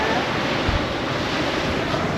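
Steady wind buffets the microphone over continuous surf rolling onto a beach at Esperance, Western Australia, a broad, unbroken rush with no voices.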